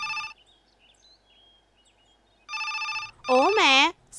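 A telephone rings indoors with loud repeated electronic bursts of rapid warbling tone, separated by silence, with a voice rising over the last ring.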